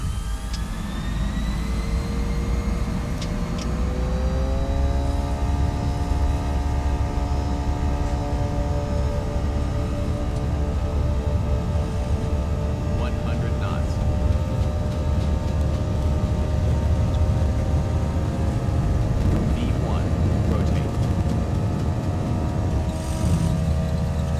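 Simulated A320 jet engines spooling up for takeoff in X-Plane 10, a steady loud whine with rising tonal layers over a constant low roar, continuous throughout with no talking.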